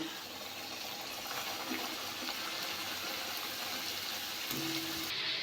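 Babusa sweets frying in a pan of oil, a dense continuous bubbling sizzle that stays loud and even throughout, close up with no voices.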